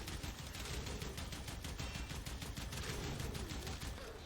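A weapon in Warframe fires in rapid, continuous bursts, a quiet rattling stream of shots with no talk.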